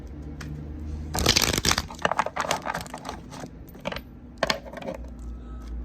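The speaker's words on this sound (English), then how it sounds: "let's cut this deck to see what shows up for Scorpios" Tarot cards being cut and handled: a brisk burst of crisp card riffling and slapping, followed by scattered softer taps and shuffles of the deck, close and fairly quiet.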